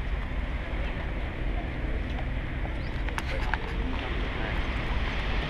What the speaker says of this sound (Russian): Вертолет какой-то завис.